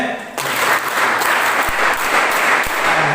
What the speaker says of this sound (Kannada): ಮನೋಜ್ ಒಂದು ಪ್ರೀತಿಯ ಚಪ್ಪಾಳೆ